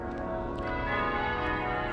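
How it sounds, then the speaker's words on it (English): Church bells of Worcester Cathedral ring in a dense, continuous wash of overlapping tones, steady and fairly loud throughout with no talking. "Worcester Cathedral, the bells are ringing"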